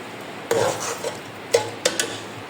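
Tomatoes stirred into fried onions in a pot for bhindi gosht: a few close spoon scrapes and clacks against the pot over a faint background sizzle.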